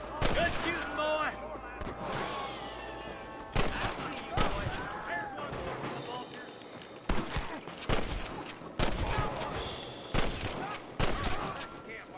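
Rapid gunfire bursts and volleys in the Western video game Red Dead Redemption, loud and close, with short pauses between them and voices shouting and talking in between.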